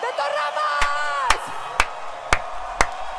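Concert crowd singing together at a live rock show, a loud, massed chant of many voices, broken by five sharp, evenly spaced drum-like hits.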